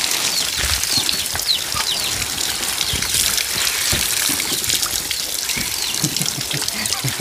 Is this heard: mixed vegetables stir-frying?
no